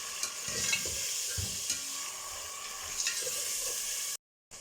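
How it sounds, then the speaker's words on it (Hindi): Chopped tomatoes and three whole green chilies frying in a pot, close and steady sizzling with repeated scraping stirs, a brief cut near the end, no voices. "और इसकी भी 1 मिनट तक भुनाई कर लेंगे"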